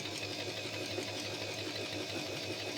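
A domestic sewing machine, a Family Hobby Line 14, runs steadily as it stitches fabric with the needle lowered, giving a continuous mid-level motor whir and rapid mechanical rhythm throughout with no voices.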